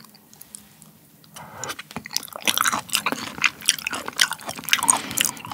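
Raw beef yukhoe dipped in chojang sauce being chewed close up, quiet at first, then a run of moist, crunchy bites and soft squishes that grows louder and steadier over several seconds, with no talking.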